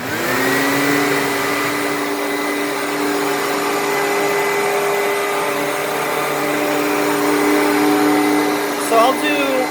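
A Hoover WindTunnel bagless vacuum cleaner runs on carpet with a steady, close, loud whine and whirring motor tones, holding constant throughout before a brief clatter near the end.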